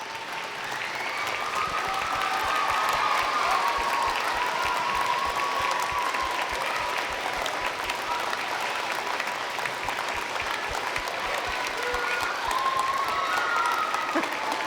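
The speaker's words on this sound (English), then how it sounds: "Principal Lake, Superintendent Spray, could you all stand for a round of applause" Sustained applause from a large crowd at an elementary school award ceremony, dense and steady clapping that continues for the whole stretch without letting up.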